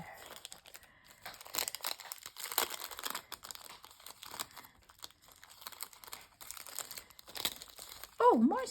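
A small plastic baggie crinkles softly close up as it is peeled open, with quiet rustling scattered through the whole stretch and a brief voice right at the end.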